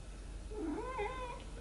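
A pet cat gives a single drawn-out meow that rises and falls, close and clear against a quiet indoor room, with no talking over it.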